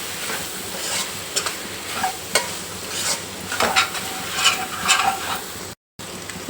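Spoon stirring tomato masala frying in oil for capsicum curry, with sizzling and scraping strokes that come in a steady rhythm close up.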